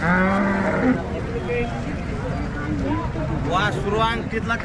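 A cow moos loudly nearby twice at a cattle market, long drawn-out lowing calls separated by a pause, with background noise and some speech-like sounds around them.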